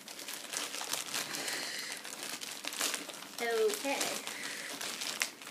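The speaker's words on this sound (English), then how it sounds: "The next package looks like this, and I'm going to try to rip it open." A plastic mailer package for a book is torn and crinkled open by hand, a rough continuous rustling and ripping close to the mic, with a brief spoken word.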